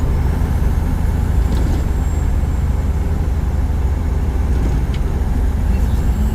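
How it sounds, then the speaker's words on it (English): A truck rattles and rumbles over a rough road with sharp curves, a constant loud engine and cab drone heard from inside, with faint clanks now and then. "I'm sure y'all can hear the truck rattling like crazy"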